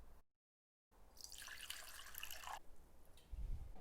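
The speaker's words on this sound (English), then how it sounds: "fill it up with water, and then pour that water out into a jug" Water runs and splashes into a jug in a kitchen while pickling vegetables, a close steady pour lasting a couple of seconds after a brief silence, then a low clunk.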